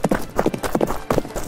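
Horse hooves clip-clop in a quick, even rhythm as a prince practises riding in a children's Barbie doll fairy-tale play; the sound is close and continuous.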